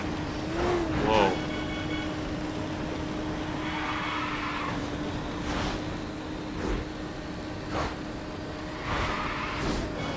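A car drifting in the racing game Burnout Revenge: a steady, droning engine runs throughout, with faint tyre and engine swells now and then, and a voice is heard over it at times.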